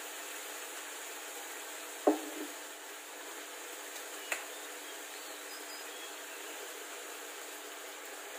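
Catfish with holy basil sizzles in a pan in a steady, soft hiss, broken by a clear utensil scrape and then a lighter tap as the stir-fry gets stirred, with no talking.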